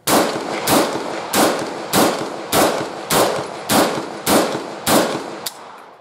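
Rapid fire from a VPO-209 rifle: about nine loud, close gunshots at a steady, evenly spaced pace, each a sharp blast with a short ringing decay, heard alone.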